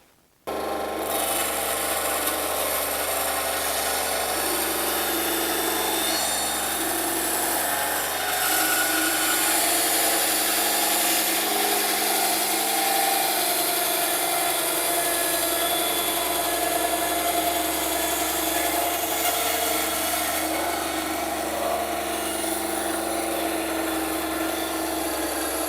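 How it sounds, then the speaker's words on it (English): An Einhell TCSB 200 band saw cuts through a workpiece with a loud continuous rasping whine and motor drone, steady and close for over twenty seconds without talk. "With a bit of practice and understanding your tool, the bandsaw, how the blade actually bends to cut"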